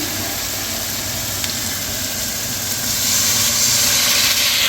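Water poured into a pan of frying tomato, chilli and ginger for a chicken curry sets off a loud, steady steamy sizzle that swells slightly toward the end, with no voices.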